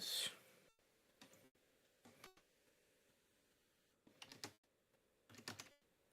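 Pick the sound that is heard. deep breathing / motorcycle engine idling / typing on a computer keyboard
typing on a computer keyboard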